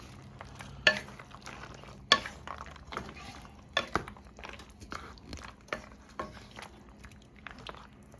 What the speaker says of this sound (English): Mix the cashews in there.